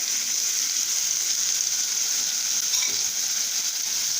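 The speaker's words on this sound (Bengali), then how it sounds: "গরম হওয়ার পর মাংসটা ঢেলে দিলাম, স্লাইস করা মাংসটা।" Sliced meat sizzles steadily in hot oil in a wok, a loud continuous frying hiss with a brief stir partway through, and no talk over it.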